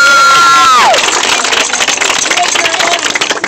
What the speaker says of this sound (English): Everybody clap for them.